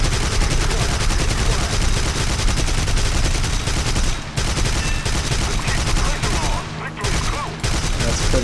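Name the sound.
aircraft cannons firing in video game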